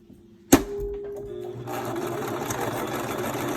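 A sewing machine starts with a sharp click and runs steadily, stitching a seam on a homemade fabric mask, close and moderately loud with no talking.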